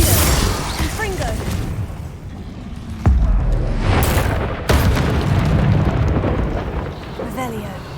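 The Confringo explosion spell in the Hogwarts Legacy video game on PS5, with sharp booming blasts around three and a half and five seconds over steady game ambience, while a player speaks.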